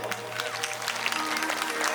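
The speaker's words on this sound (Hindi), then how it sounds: "एक बार अपन पर जोरदार ताली बजा दो" Loud, sustained clapping from a village crowd at a devotional Manas singing gathering, a dense continuous patter with a low steady hum underneath.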